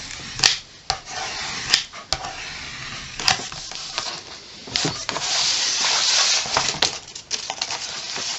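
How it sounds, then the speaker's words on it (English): A tool burnishes down the spine of a handmade album cover with close rubbing and scraping strokes, broken by scattered light taps and clicks. "I'm going to burnish this down because I want it to stay"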